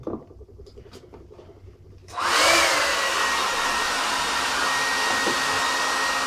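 A hair dryer blow-drying a man's hair starts up after a few quiet seconds of faint handling noises, then roars steadily and loudly at close range until the end.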